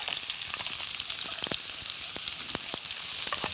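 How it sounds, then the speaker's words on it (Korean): Sliced onion and whole garlic cloves sauté in hot oil for a garlic shrimp and pasta dish, giving a dense, close crackling sizzle dotted with sharp spattering pops throughout. "자 이제 좀 볶아주고"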